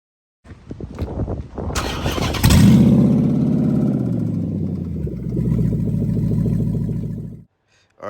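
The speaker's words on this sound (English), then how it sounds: "it is the beginning of a knocking engine" A Dodge Charger donor car with a knocking engine cranks and fires up, then idles and revs loudly through its exhaust, a faint knock under the roar, before cutting off abruptly.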